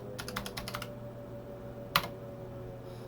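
A burst of quick keystrokes on a computer keyboard, a short run of typing followed by silence and one sharp final key press, close and fairly quiet over a steady low hum.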